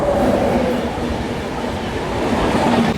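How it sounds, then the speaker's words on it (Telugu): The Swarnajayanti superfast express, train 12804, rumbles along the track heard from on board, a loud steady roar of wheels and carriage noise with faint squealing tones throughout. "యలమంచిలి స్టేషన్ నుంచి 2 రైళ్ళు ఒకేసారి బయలుదేరినాయి."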